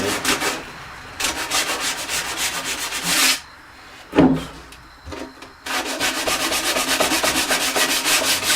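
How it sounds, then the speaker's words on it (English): Steady scratchy sandpaper strokes on wood, close and fairly loud, with a few short pauses before the rhythmic rubbing resumes. "there's a couple little spots that I need to hit with some sandpaper"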